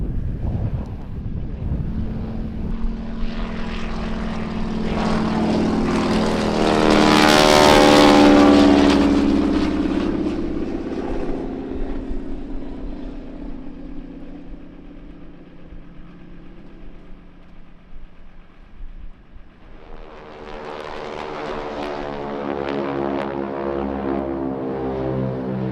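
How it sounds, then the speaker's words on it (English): A North American Harvard propeller aircraft approaches to land, its engine drone swelling to a loud pass at mid-clip and fading, then rising again near the end, with wind buffeting the microphone throughout. "Just got the Harvard 66 coming in for a landing."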